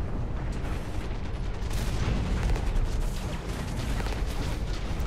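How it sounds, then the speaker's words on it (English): Enemy gunfire in the mech shooter game Hawken rumbles as dense, continuous booming blasts and heavy rapid fire, loud and close, with no voice over it. "they're shooting at me"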